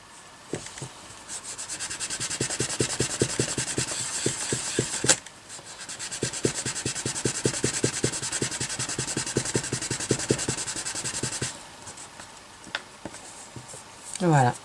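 Dry sanding of polymer clay with Abranet abrasive mesh, a steady close scratchy rubbing in rhythmic back-and-forth strokes that pauses briefly midway, with someone speaking over parts of it.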